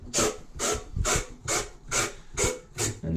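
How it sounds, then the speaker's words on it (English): Hard bristle brush scrubbing the outside of a copper pipe, seven steady rhythmic rasping strokes at close range, each a bright scratchy burst with short pauses between, no voices. "There's also the hard bristle brushes that go on the outside as well."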